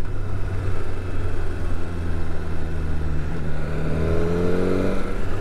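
BMW S1000R Sport motorcycle engine at speed in fourth gear, a steady loud drone whose revs swell and climb near the end as the auto blipper is tried, with no talking.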